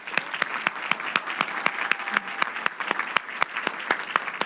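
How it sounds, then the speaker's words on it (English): At a Phi Beta Kappa induction ceremony, an audience applauds new members with sharp, regularly spaced claps that ring out over a softer bed of clapping, moderately loud and continuous. "Please join me in applauding our new members."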